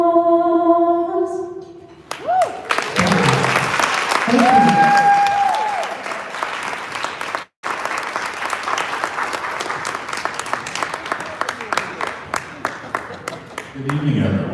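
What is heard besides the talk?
audience applause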